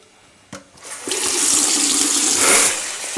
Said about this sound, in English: fill our pot with water